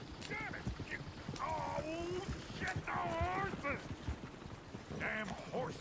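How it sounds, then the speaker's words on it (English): Hooves clip-clop steadily from horses in the video game Red Dead Redemption, a dense trotting rhythm that runs throughout while characters talk over it. "Damn horses."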